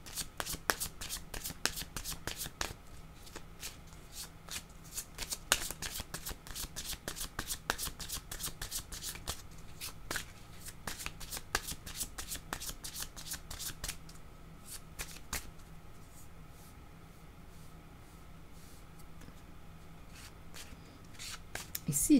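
A deck of yellow playing cards is shuffled over and over, with dense, rapid riffling clatter running nearly nonstop and close to the listener.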